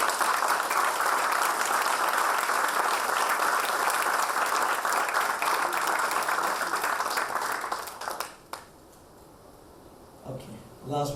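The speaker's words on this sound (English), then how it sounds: "Can you give a big round of applause for Sahana?" A large audience at a college orientation session claps steadily and loudly for about eight seconds, then the applause cuts off abruptly, leaving quiet room tone with a brief voice near the end.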